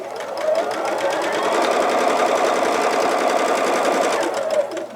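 A sewing machine runs steadily in a fast, even stitching whir while free-motion quilting an animal crackers quilt block, loud and close for several seconds with no talking.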